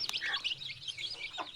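Poultry in a cage clucking and chirping in quick, overlapping calls, close and fairly loud, with a few sharper peeps; no talking.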